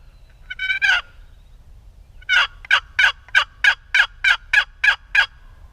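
A wild turkey gobbles once in Kansas, then after a pause a rapid series of about ten sharp, evenly spaced calls rings out clearly against quiet background.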